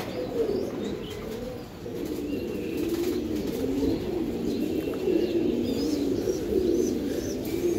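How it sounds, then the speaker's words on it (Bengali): Racing giribaz pigeons of a tournament line coo continuously in low, rolling warbles, close by, with a few faint higher chirps and wing sounds in the background. "দোনোটা কবুতর ছাড়াছাড়ি লাইনের কবুতর।"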